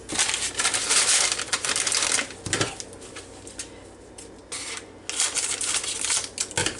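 Seasoned coating packet for crispy baked chicken legs being cut open and handled, with crisp crinkling and rustling plastic and paper bursts, close and fairly loud, easing off in the middle before rising again.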